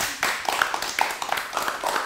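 Scattered clapping from a small audience at a workplace gathering with staff and their company head, with uneven, loose hand claps close by and occasional murmuring voices.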